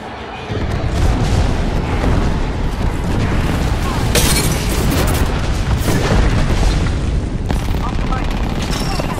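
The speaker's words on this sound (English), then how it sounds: "Airstrike danger close." Airstrike explosions in the Apex Legends video game, a dense continuous barrage of loud booms and blasts rumbling without pause for several seconds, close and overwhelming.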